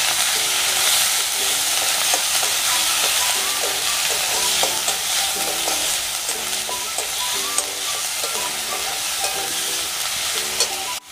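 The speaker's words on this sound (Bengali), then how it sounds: "এরপর দিয়ে দিচ্ছি একটা বড় সাইজের পেঁয়াজ আমি কুচিয়ে রেখেছিলাম" A large chopped onion fries in a pan, loud steady sizzling under rhythmic scraping strokes of a spatula, with no talk.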